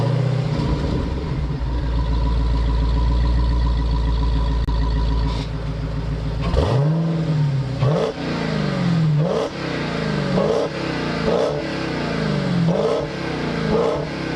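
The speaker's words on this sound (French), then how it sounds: "c'est un V8, 6 litres 2 qui fait ce bruit là" A 2022 Dodge Charger Hellcat Widebody with its 6.2-litre V8 holds a loud, steady idle, then gives a string of about six sharp throttle blips, each rising and falling in quick succession, close up with no talking.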